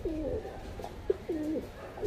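Pigeons in a high-flying pigeon loft coo in repeated soft, rolling phrases, several calls overlapping at close range with a brief sharp flutter or peck between them and no talking.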